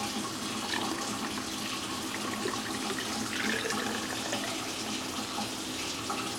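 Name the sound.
filling Shark steam mop tank with water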